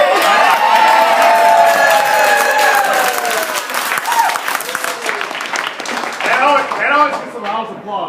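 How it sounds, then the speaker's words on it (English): Crowd at a campaign event in La Crosse, Wisconsin, breaking into loud applause with cheering and whoops, dense clapping that slowly thins while voices call out over it. "That always gets a loud applause"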